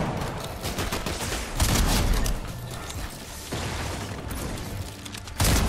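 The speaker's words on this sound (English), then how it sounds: "somebody's shooting at me" Gunfire in Fortnite, heard as loud, continuous bursts of shots and impacts. The volume stays steady throughout, with a few louder surges.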